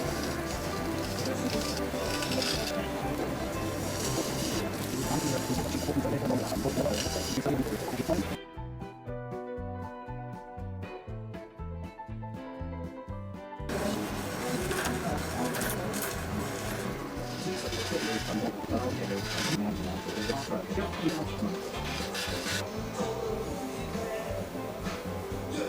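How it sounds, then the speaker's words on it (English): A wood lathe spins a segmented mosaic vase as a small round cutter takes light cuts, giving a continuous dense whirring scrape, interrupted midway by a stretch of music. "I can go back to my small round cutter and just take nice light cuts"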